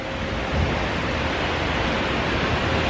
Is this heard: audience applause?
no